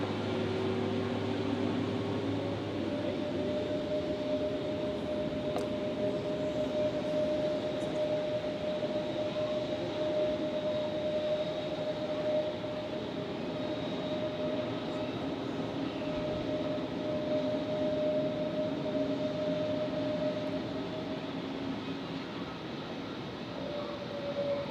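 A jet aircraft at Zurich Airport in fog rumbles steadily as it taxis or rolls for takeoff, a constant distant roar with a sustained engine whine that holds for the whole stretch.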